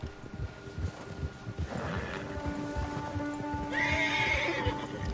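A horse frightened by a bear whinnies loudly in a long shrill call in the video game Red Dead Redemption 2, over a steady outdoor hum, with hoof clops and movement sounds running throughout.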